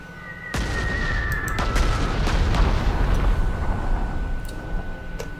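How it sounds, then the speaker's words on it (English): Sustained artillery bombardment in the wartime strategy game Panzer Corps 2, opening with a sudden heavy blast and rolling into a dense, continuous roar of explosions that swells and holds loudly, with no talk over it. "I think we can bombard you."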